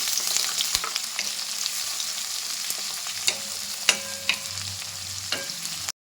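Chopped onions and curry leaves roast in hot oil, giving a steady close sizzle with occasional scraping stir strokes from a spatula and no voices.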